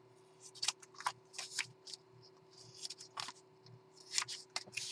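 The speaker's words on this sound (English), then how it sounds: "now I'm going to find my scissors. Here they are. And trim off the corners like so." Scissors snip the corners off paper scraps while a black and white journal is being worked on, a few close crisp cuts with light paper rustling in a quiet room.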